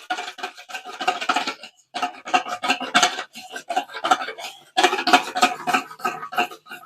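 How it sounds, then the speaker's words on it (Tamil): Ghee beaten by hand in a bowl until creamy for nankhatai dough, a steady scraping, rasping whisk in quick repeated bursts, close and moderately loud, with short pauses between rounds and no talking. "நெய்யை வந்து நல்லா நம்ம அடிக்கணுங்க"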